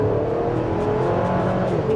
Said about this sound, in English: Yeah, pretty good acceleration there.